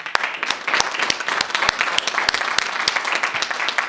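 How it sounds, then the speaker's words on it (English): A crowd at a press conference claps steadily in warm applause, dense and sustained throughout with sharp individual claps standing out near the front. "another round of applause for all of them"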